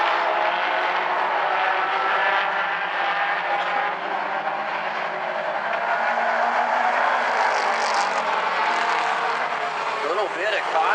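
Mini stock race cars roar around South Sound Speedway in a close pack, a loud continuous engine drone that swells as the field passes, with an announcer talking over it.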